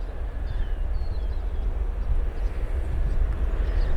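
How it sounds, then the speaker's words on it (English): An Airbus A320 airliner, Kit Airlines flight 1470, rumbles past at an airport, a steady low jet roar with a broad hiss above it, moderately loud and unbroken, with no voices. "Kit Airlines 1470. It's a A320."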